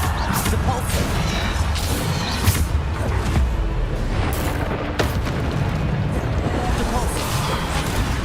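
Repeated Bombarda blasting spells in the Hogwarts Legacy video game, dense booming explosions and crashes coming one after another over steady heavy battle noise.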